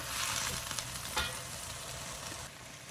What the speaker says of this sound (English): rice vinegar, I'm just adding about 1 tablespoon right here, and it is on a high flame, and we just mix it well